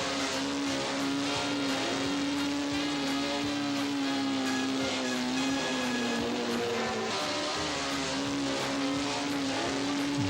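Vintage solo speedway motorcycles at Rowley Park, a steady loud engine drone held at near-constant pitch with slight wavering as they race toward the finish line, continuous throughout with no talk.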